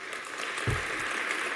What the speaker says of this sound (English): they're clapping for George Bush.